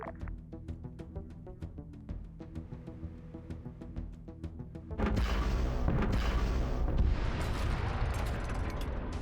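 A big gun firing in the Halo video game: a steady rhythmic mechanical pulsing gives way to a loud, dense rumbling barrage of booming blasts that continues to the end.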